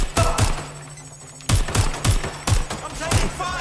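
Bursts of gunfire in the video game Watch Dogs Legion, sharp shots in quick volleys with brief pauses, loud and close, with combat chatter faintly underneath.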